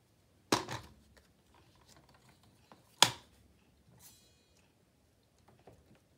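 Two sharp snips cut a little off each side of a vellum sheet, each crisp, close and separated by a pause, followed by faint paper handling and light rustling in an otherwise quiet room.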